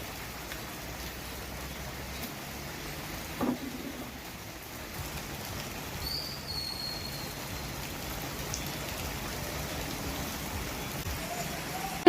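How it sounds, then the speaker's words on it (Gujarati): Light, steady rain falls over villages around Dhari and the Gir fringe in Gujarat, a faint, even patter with no voices and only a few soft bumps. "ધારી શહેર સહિત આસપાસના ગ્રામ્ય વિસ્તારોમાં ધીમી ધારે વરસાદ જોવા મળી રહ્યો છે"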